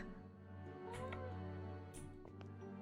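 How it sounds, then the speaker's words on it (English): Cat in the video game Mystery of the Seven Keys giving a couple of drawn-out meows over a quiet steady hum, faint and somewhat distant. "Is that a cat meowing?"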